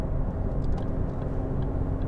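Steady low drone of a 2013 Ford Focus 1.6 TDCi ECOnetic diesel cruising along, heard from inside the car as an even rumble of engine and tyre noise with no talking.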